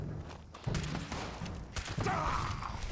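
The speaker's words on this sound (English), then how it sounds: "Fireworks." Fireworks go off in the video game Fallout 76 as a series of sharp crackling bursts at moderate distance, uneven in spacing, over a low rumbling game soundtrack.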